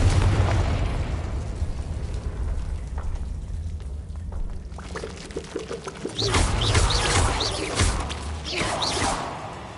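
The Confringo explosion spell in Hogwarts Legacy erupts with a loud, sustained fiery roar and crackle that swells again midway, dense and close.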